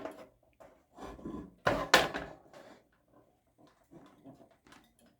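A thermostat safety weight on a pivot inside a vintage SuperLectric 625 'Instant Heat' forced-air heater squeaks as the heater is tilted, giving a few scraping, creaky bursts with one louder squeal near the middle, then fainter rattles.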